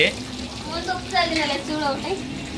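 Chicken fries in a pan with a steady, soft sizzle that runs under people talking close by.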